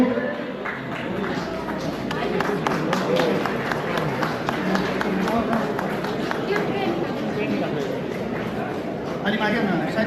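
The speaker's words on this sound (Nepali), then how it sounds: "कृपया सम्पूर्ण महानुभावहरूले ताली बजाएर स्वागत गर्नको लागि म हार्दिक अनुरोध गर्दछु" An audience claps to welcome guests at a 7/8 Gurkha Rifles regimental gathering, with dense, sustained applause mixed with crowd chatter and babble throughout.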